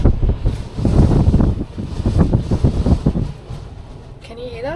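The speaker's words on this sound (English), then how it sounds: "You want to know what the wind is like here at the moment?" Strong wind at the beach buffets the microphone in heavy, gusty low roars that surge and ease over a few seconds, loud and close.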